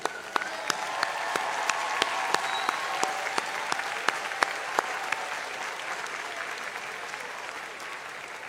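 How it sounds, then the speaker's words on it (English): A graduation audience at a university faculty ceremony bursts into sustained applause, a dense wash of many clapping hands with sharper individual claps standing out, steady and fairly loud throughout. "Let's give them a round of applause."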